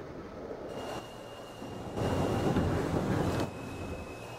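New York subway C train running in Trainz Simulator 2012, a faint low rumble of wheels and motors with a steady whine, swelling louder midway then easing back.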